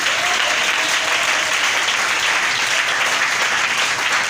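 A church congregation bursts into loud, sustained applause, a dense steady clapping that fills the room without a break.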